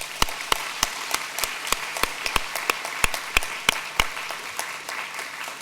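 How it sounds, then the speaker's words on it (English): Sparse, scattered hand claps from a small conference audience at an online-learning world conference, about a dozen distinct sharp claps spread over several seconds, fairly close and alone without talk. "Please give him a round of applause."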